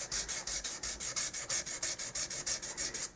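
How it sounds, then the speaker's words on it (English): Rhythmic back-and-forth rubbing of 400 grit sandpaper wrapped around an art gum eraser, smoothing banjo frets, about fifteen quick, even strokes, close and steady with no talking. "we're going to use this same little piece of art gum, eraser, whatever, and some 400 grit sandpaper wrapped around this."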